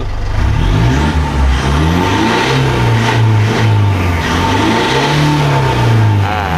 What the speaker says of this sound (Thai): ผมจะสตาร์ทเครื่องให้ดูก่อนนะครับคันนี้ บอกเลยว่าเสียงนุ่ม